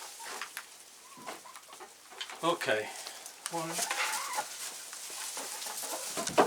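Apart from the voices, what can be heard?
chickens clucking in a coop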